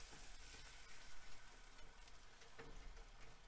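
Scrambled eggs with oysters for Hangtown Fry sizzle and crackle steadily in a hot pan, a close, continuous frying hiss with occasional stirring scrapes.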